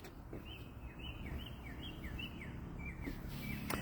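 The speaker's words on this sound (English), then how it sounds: "Listen to the birds. They are singing." Several short bird chirps of morning birdsong in spring repeat across a steady outdoor background hum, fairly faint and a bit distant.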